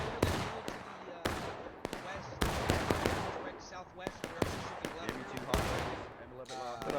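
Civil War regiments fire musket volleys in a video game battle, giving sharp, irregular cracks in scattered clusters, some crisp and some softer, under steady commentary.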